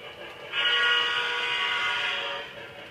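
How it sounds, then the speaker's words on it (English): A shrill model train whistle blows in one sustained blast lasting about two seconds, fairly loud against a quiet background. "We'll do one more whistle at the corner."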